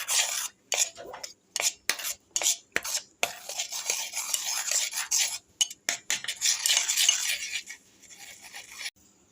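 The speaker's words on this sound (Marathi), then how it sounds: "त्यामध्ये आपण दूध टाकून घेणार आहोत थोडंसं आणि ह्याला छान असं मिक्स करून घ्यायचं आहे आपल्याला" A spoon stirs cornflour into milk in a bowl for summer kulfi, giving quick metallic clinks and scrapes in irregular bursts separated by brief silences, close and fairly loud.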